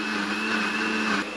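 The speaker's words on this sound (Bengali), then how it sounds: "এখানে হচ্ছে আদা ব্লেন্ডার করতেছে, এখন আদা ব্লেন্ডার করে তারপরে হচ্ছে ডাল ব্লেন্ডার করবে।" An electric blender grinding ginger, its motor a steady, loud whirring drone that holds for over a second and then drops slightly near the end.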